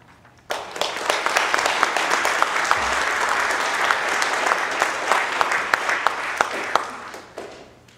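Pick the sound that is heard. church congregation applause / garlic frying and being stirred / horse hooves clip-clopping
church congregation applause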